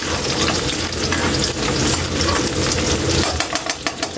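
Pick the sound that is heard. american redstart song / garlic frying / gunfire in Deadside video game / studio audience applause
garlic frying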